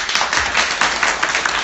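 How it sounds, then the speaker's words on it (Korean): A Korean audience at the Sewol ferry memorial classroom claps for the mothers of Danwon High School students, a loud, dense and steady burst of applause. "우리 세월호 어머님들을 위해 지금 박수 한번."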